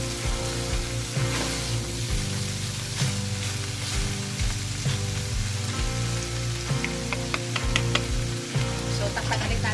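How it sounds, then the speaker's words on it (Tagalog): Ground beef giniling with vegetables sizzling and frying in a pan, stirred now and then with scraping clicks under a steady crackling hiss. "Mix lang natin para pantay ang luto ng gulay."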